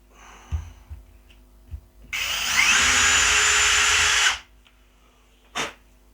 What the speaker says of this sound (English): We're now going to go for drill mode and just do a little tiny tap.